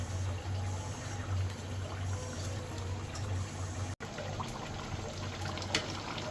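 Water trickling and pouring into a pot of chicken curry as it cooks, a steady liquid stream over a constant low stovetop hum, close and fairly loud with no talk.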